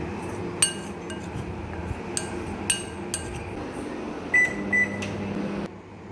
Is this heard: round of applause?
no